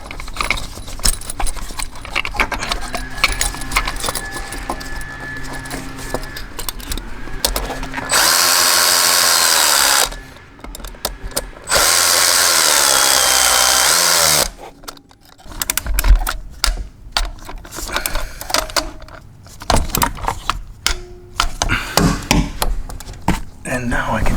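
A power tool tightens the coil pack bolts on a Silverado or Sierra with the L3B 2.7L turbo four-cylinder. It gives two loud whirring bursts of a couple of seconds each, separated by a short gap, amid close clanking and handling noise.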